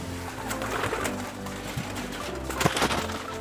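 Pigeons held for a raffle coo steadily at close range, with soft throaty calls repeating over a constant background hum and occasional rustles.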